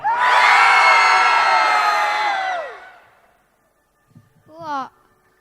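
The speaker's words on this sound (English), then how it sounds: "can you imagine how loud can the 100 of us scream?" Around a hundred people scream together at full volume for nearly three seconds, a dense, loud roar that fades out; a single short shout or laugh follows after a pause.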